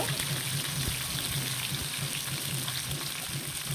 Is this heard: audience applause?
no